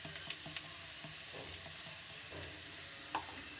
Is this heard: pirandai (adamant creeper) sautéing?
yes